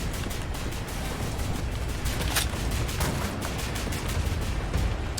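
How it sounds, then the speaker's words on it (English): Continuous roaring gunfire and fiery background din fill a Wolfenstein: The New Order firefight, a loud wash of shotgun blasts with a few sharper peaks standing out, steady and dense throughout. "I'm gonna shoot up some shotguns"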